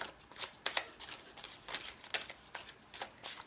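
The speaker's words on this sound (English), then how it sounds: "So let me just pull a few more cards." Cards pulled one after another from a brand-new tarot deck give a quick run of crisp, papery flicks and slaps, close and fairly quiet, with no voices.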